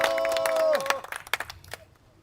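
Brief applause and scattered clapping from an outdoor memorial concert crowd at Sangnoksu Station, fading quickly after a voice over the sound system.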